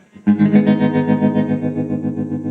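Electric guitar played clean through a JK Pedals Baby Doll Deluxe tremolo pedal, a struck chord ringing out with steady pulsing amplitude wobble, sustained and close, no voices.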